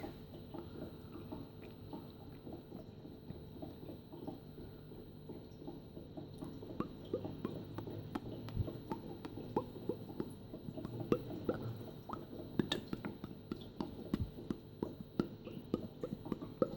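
Aquarium pump hidden behind a rock in a tropical fish tank, making faint, continuous bubbling and soft dripping water sounds under a low, steady hum.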